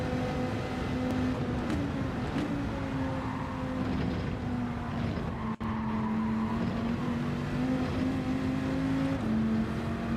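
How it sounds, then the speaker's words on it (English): A race car engine in a racing video game drones at high revs near the rev limiter, a steady buzzing tone that wavers slightly in pitch, with a brief dropout midway. "Upshifting a little bit too late now. I'm not paying attention to the RPM limiter."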